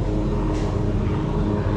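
Helicopter flying overhead outdoors, a loud, steady low droning rumble that holds without a break.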